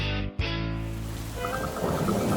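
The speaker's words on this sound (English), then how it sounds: "Peppa and George were in the living room watching the rain and waiting for it to stop." Cartoon rain falls in a steady hiss with a low thunder rumble, briefly cutting out near the start before resuming, with light dripping patter toward the end and no speech.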